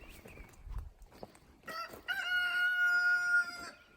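A broody hen's clucking and cackling calls, some drawn-out and tonal, sound from close by against quiet background noise.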